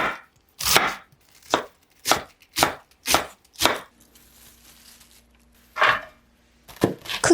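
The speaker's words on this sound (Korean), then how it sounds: "크기가 큰 겉잎은 반으로 자르고 겹쳐서 채 썰어 주시고요" A knife chops through stacked, halved cabbage leaves on a board, giving about eight sharp, close strokes in an uneven rhythm with a short pause before the final few cuts.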